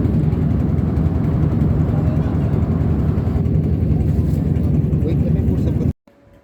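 A trawler boat's engine drones steadily and loudly while crossing a river, a continuous low rumble under the sound of water, cutting off abruptly near the end.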